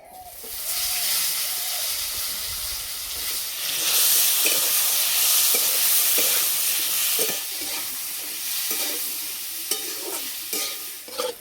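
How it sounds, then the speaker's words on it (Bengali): Pointed gourds fry in mustard oil with a little turmeric in a wok, giving a continuous close, bright sizzle with occasional stirring clatter and no talking. "পটলগুলো ভেজে নেব।"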